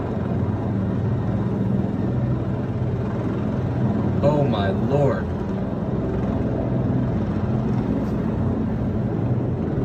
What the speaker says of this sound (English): a helicopter landing on the east front of the Capitol